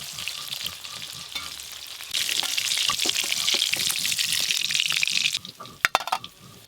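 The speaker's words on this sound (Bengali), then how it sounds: "দেখতে দেখতে ইলিশ মাছগুলো একদম হালকা করে ভাজা হয়ে গেল," Hilsa fish pieces frying in hot oil give a steady, close sizzle that swells louder midway, with a few sharp scraping clicks near the end and no voices.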